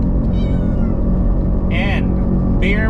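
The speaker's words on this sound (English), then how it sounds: "So if you hear meow, it means they are, enjoying this trip." Pet cats meow twice, in short, clear calls, from inside a car on a road trip along Koh Chang's east side, heard over a steady, loud road and engine rumble.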